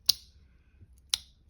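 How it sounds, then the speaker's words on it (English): The small scissors on a Victorinox Compact pocket knife make two crisp, close snips about a second apart, each a short sharp click against near silence. "these are like a really nice big scissors in the Victorinox Compact"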